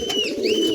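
Ringed pigeon giving a short, close, low cooing burst that runs steadily for under a second.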